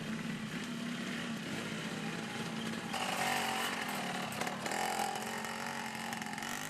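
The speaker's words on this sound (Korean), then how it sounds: "소리의 정체는 오토바이입니다." A loud, buzzing small engine of a modified log-hauling motorcycle runs continuously nearby in a Java jungle logging site, its high-pitched whine rising and dipping as it revs.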